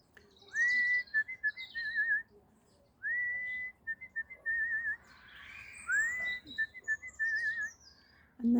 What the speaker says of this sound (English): I'll do my little whistle when I go in the garden so that they know who I am.